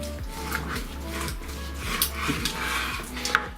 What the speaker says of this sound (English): Let's just chop this piece one more time.